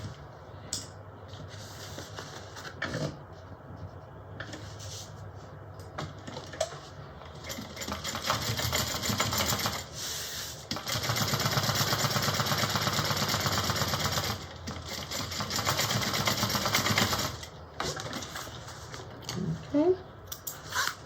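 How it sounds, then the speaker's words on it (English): A sewing machine top stitches along the bottom of a fabric bag, its fast motor whir running in long continuous stretches with brief stops and clicks between, close and fairly loud. "I'm going to top stitch along the bottom"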